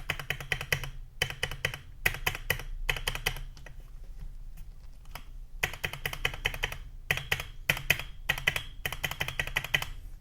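Someone types in quick bursts on a Keychron K8 Pro keyboard fitted with Mode Reflex linear switches, making crisp, close clacking keystrokes separated by short pauses, with no talking.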